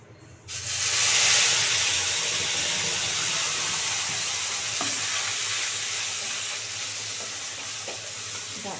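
Blended masala paste drops into hot oil with bay leaf and dried chilli, bursting into a loud hissing sizzle that stays steady and close with light stirring scrapes, no voices.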